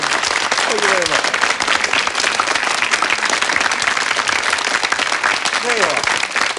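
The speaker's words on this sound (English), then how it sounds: "Round of applause." Loud, close studio audience applause on a 1977 BBC mathematics show, continuous dense clapping for several seconds with brief voices calling out within it.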